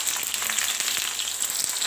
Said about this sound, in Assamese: তাৰপিছত মই পিঁয়াজখিনি ৰঙাকৈ ভাজি ল'ম